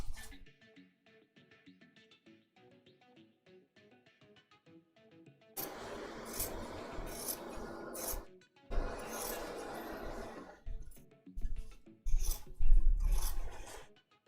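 Scissors trim the seam allowances of a waistcoat, giving close, irregular rasping snips and rubbing bursts after a quieter opening stretch.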